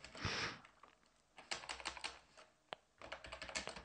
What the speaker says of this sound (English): let's go ahead and type in int n.